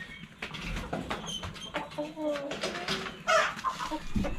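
Chickens on a farm cluck faintly in the background during morning feeding with rice, with scattered bird calls under people talking nearby.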